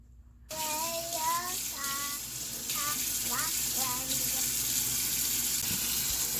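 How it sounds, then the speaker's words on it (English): A kitchen tap runs steadily while hands are washed before baking, the water starting abruptly and continuing as a close, constant splash, with voices heard over it. "Let's go wash our hands"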